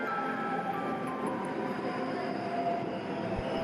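Shanghai Metro subway train running steadily with a continuous rumbling roar, rail noise and faint wheel squeal, heard from inside the carriage with no talking.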